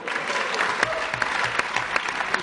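Brief applause in a council chamber after a member swears the oath of office: a steady round of clapping from a modest group, near and even, with no one speaking.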